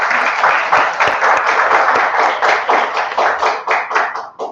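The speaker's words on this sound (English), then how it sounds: "just give yourself a round of applause" Graduates at a PACE graduation ceremony clap for themselves: loud, dense applause from a crowd, steady at first, then thinning into more separate claps as it tapers toward the end.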